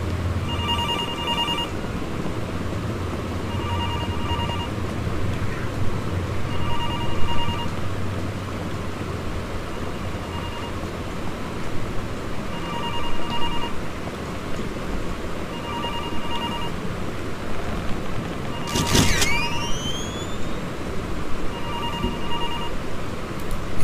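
A telephone in the Infliction horror game rings again and again in evenly spaced bursts over a low rumbling ambience, with a sharp swooping sound effect near the end.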